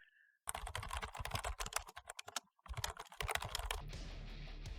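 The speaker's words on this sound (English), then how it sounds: "Apologies for my really slow typing" Keys on a computer keyboard are pressed in uneven, hesitant bursts of clicks with short pauses between them, fairly close and clear, ending in a steady low hum.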